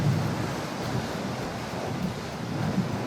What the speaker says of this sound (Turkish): Dalga mı? Dalga.